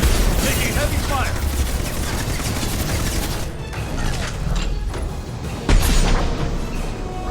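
Heavy gunfire and explosions in Mass Effect 2 during the Lair of the Shadow Broker mission: a dense, loud, continuous barrage with thudding bursts, and voices heard amid the combat.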